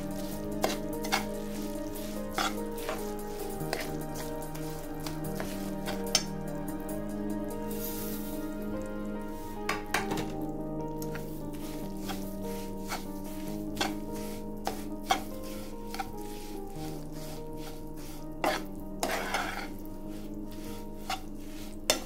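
A spoon mixes roasted sesame seeds and coconut into hot jaggery syrup in a pan, making repeated scraping clicks and knocks against the metal over a steady background of music.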